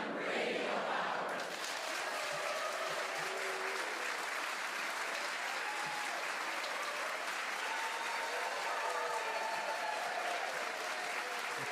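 A live radio-show studio audience claps at a folk music taping, dense steady applause filling the room from start to finish with a brief quieter moment at the very beginning.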